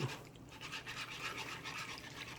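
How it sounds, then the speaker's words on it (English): Whisk beating sauce for smothered pork chops in a pan, giving a quiet, steady scraping swish that runs continuously. "Let me get me a whisk so I can whisk this up."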